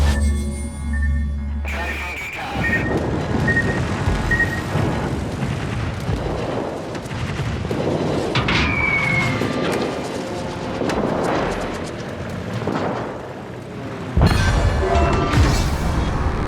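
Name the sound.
enemy fighter plane destroyed, explosions in World of Warships video game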